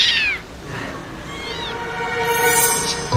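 A kitten meows several times in a Korean drama scene, with rising and falling high cries near and clear over a low room hum. A brief sound closes the clip.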